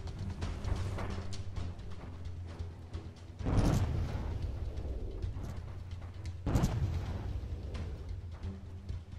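Gunboat cannon fire in the Roblox Warships naval game: two heavy, booming shots a few seconds apart, each rising sharply over a constant rumbling background of engine and water noise.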